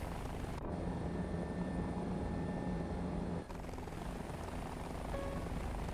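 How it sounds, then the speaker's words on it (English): A helicopter in the War Thunder video game drones loudly and steadily with a dense rotor and engine roar throughout, a brief dip partway, no talk. "I hate helicopters."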